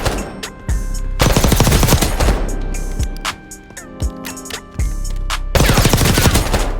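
Automatic gunfire from a recommended loadout weapon in Call of Duty Warzone, loud and close, rattling in several sustained bursts separated by short pauses, with sharp single reports in between.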